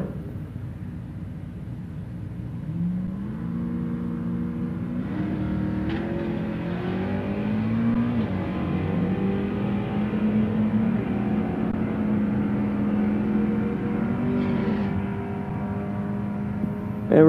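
An '89 Mustang and a '71 Camaro launch down a drag strip at a Wednesday night drags event, a loud continuous engine roar climbing in pitch through repeated gear pulls, with no talk over it.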